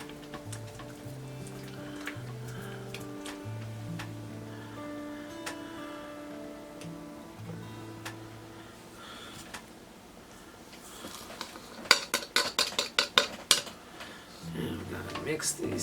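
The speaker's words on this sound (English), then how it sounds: "I'm going to stir this down" A spoon stirs a cup of sugar into a cornflake cookie mixture in a bowl, soft scraping under a tonal background, then a rapid run of sharp clinks and taps against the bowl near the end.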